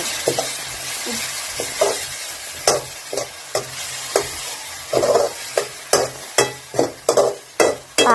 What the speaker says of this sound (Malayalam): അമ്മ നന്നായി ഇളക്കി കൊടുക്കുന്നുണ്ട് കേട്ടോ